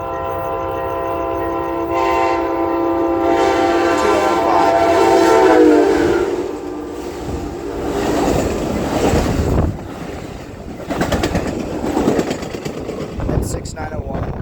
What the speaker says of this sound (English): here comes Amtrak 584